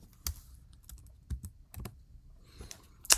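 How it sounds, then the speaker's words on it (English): Typing on a computer keyboard: a handful of separate sharp key clicks at uneven intervals, close and fairly clear over near silence, with a louder clack at the end. "Let's type it in."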